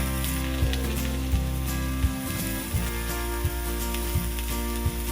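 Breakfast sausage links sizzle steadily on a Blue Rhino outdoor griddle, a close, continuous fry with a low rhythmic thump recurring roughly every second underneath.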